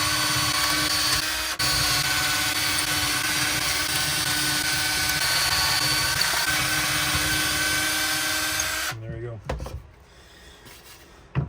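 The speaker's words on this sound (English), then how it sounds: "Now I'm just going to drill holes." A power drill runs steadily through wood with a grinding whine, then stops and winds down, followed by light handling noises.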